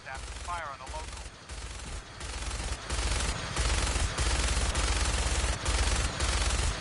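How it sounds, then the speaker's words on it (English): A minigun in the Fallout 4 game fires in long sustained bursts, a dense rapid rattle with brief pauses between volleys, loud and close, building in intensity. "minigun in front of you is loaded and ready to fire"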